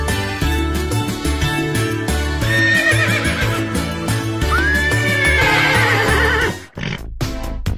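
A horse neighs and whinnies loudly over rhythmic clip-clop hoofbeats, the high wavering calls rising twice above the steady trotting before a short pause and a final burst.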